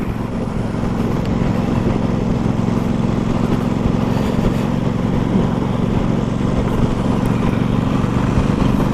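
Aprilia RS660 motorcycle fitted with a KTech rear shock and fork kit, ridden at 30 mph on a real road, a steady loud engine drone with wind rush, continuous and unbroken throughout.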